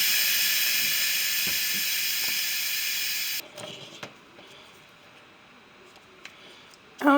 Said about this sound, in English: So I got to let the steam out.